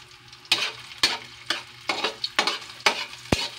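Food stirred and fried in a pan at home, with about seven sharp scraping stirs spaced half a second apart over a steady close sizzle, ending on one hard clack.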